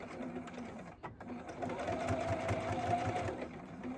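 A sewing machine runs steadily, stitching a French seam on a fabric makeup bag, its needle motor whirring with a quick rhythmic pulse that pauses briefly before resuming, fairly close and alone.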